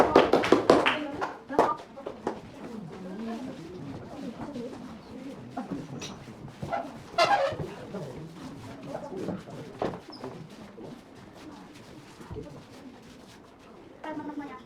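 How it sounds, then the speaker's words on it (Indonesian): Applause ripples through a classroom after a student group's discussion presentation: scattered, moderately loud hand clapping in a reverberant room, with voices talking over it and birds cooing faintly in the background. "Tepuk tangan."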